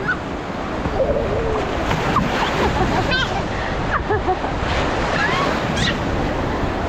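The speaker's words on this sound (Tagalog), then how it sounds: "Woohoo! It's a wave!" Ocean waves surge and break on a beach in steady, loud washes of surf with wind buffeting the microphone, while excited voices talk and cheer over the water at a child's second birthday outing.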